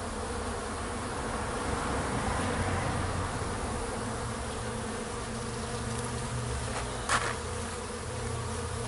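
Bees buzz steadily around a beehive, a dense continuous drone of many insects that stays at an even level throughout, with one brief nearer pass, and no voices.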